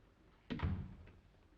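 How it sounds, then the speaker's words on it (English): A single door swings shut with a solid, close thunk in a quiet room, followed by a brief low rumble as it settles. "Come in here and shut the door."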